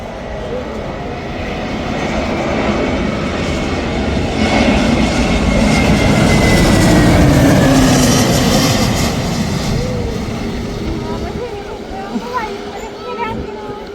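An Air India Express jet landing roars steadily, swelling and fading over several seconds as it passes, with broadband engine rumble throughout.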